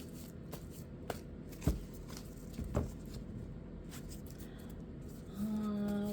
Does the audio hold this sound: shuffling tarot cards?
yes